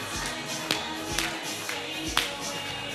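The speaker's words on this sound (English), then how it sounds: "Let's have some applause going. Go on, hands." Studio audience applause on a Top of the Pops set in 1986, a scattered crowd clapping steadily with a few sharper, louder claps standing out over a backdrop of music.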